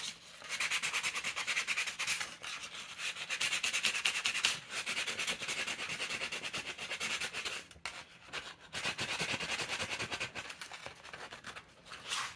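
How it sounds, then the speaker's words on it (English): Sandpaper is rubbed steadily over punched holes in a bookbinding cover, giving a continuous dry scratchy rasp with short pauses, close by and alone. "I can take some sandpaper if I want. And sand the holes."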